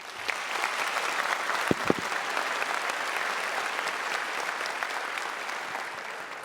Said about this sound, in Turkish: Kocaman alkış onlara gelsin.